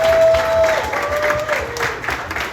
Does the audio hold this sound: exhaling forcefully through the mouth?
no